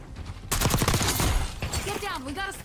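Dense gunfire in Call of Duty: Black Ops 6, a loud, close burst of rapid overlapping shots lasting over a second, followed by game voices talking.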